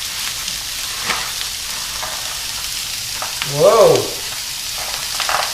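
Fennel frying in a pan for Sicilian sardine pasta gives a continuous close sizzle and crackle, with a voice briefly exclaiming partway through.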